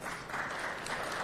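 Steady applause from the audience at a city council meeting, a dense wash of clapping with no breaks that holds at an even level throughout.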